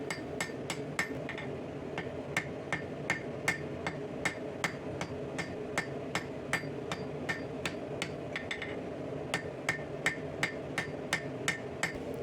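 A hammer draws out a steel spatula-sword handle on the horn of an anvil, giving a steady run of sharp, ringing strikes at an even pace over a low background hum.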